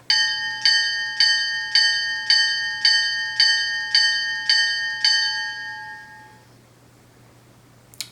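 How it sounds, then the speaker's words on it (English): The bell of an MTH HO-scale GP38-2 model diesel locomotive rings nine times in an even, steady rhythm, each strike clear and ringing, then fades out into quiet. "here's the bell."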